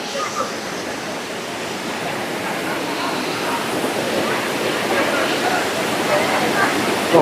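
The Kodiveri waterfall in Sathyamangalam, India, roars nearby as a loud, unbroken wash of rushing water that fills the whole scene evenly.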